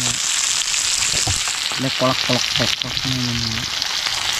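Fish frying in hot oil outdoors at a well-side cooking spot, a loud continuous sizzle up close with someone talking over it in short bursts.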